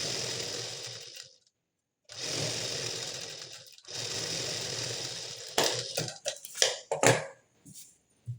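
A sewing machine stitches a plain blouse in three loud, close runs of a second or so each, separated by brief pauses, then ends in several short stuttering bursts.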